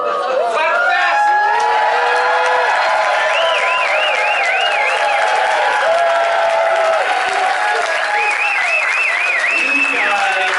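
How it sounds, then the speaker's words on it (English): A banquet audience claps rapidly and cheers loudly, a dense wall of fast applause mixed with whoops, hollers and shouting voices that carries on steadily throughout. "Clap fast!"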